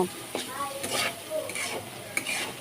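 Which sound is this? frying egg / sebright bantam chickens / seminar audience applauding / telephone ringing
frying egg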